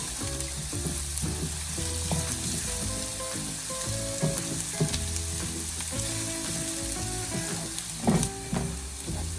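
Garlic sizzles and fries in a pan for pork giniling, cooking until it turns light brown, with steady crackling and occasional stirring clatter, loud and close without talk.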